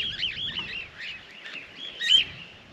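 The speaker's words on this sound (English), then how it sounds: "There's birds everywhere." Many birds chirp and tweet continuously at an outback Queensland free camp near Winton, with overlapping calls close by and a louder burst near the end.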